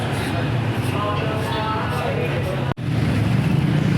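A rebuilt Yamaha NMAX scooter engine runs steadily after a refresh with a water-blasted crankcase, giving a close, even idling drone that cuts out for an instant partway through.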